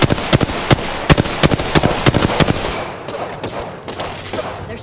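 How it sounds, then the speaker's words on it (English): Rapid gunfire in the Apex Legends video game, a burst of sharp, loud, close shots in quick irregular rhythm, thinning out into fainter distant pops and ambient battle noise. "They're shooting at me."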